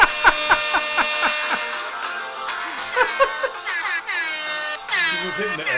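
Repeated blasts from an air horn sound in short bursts, then continue as longer, wavering honks with some background commotion.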